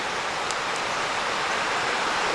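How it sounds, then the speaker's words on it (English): Tom's Creek on a trail in the Delaware Water Gap, running high after heavy rain, gives a steady, close rushing of flowing water with no break and no voices. "Tom's Creek is flowing pretty good"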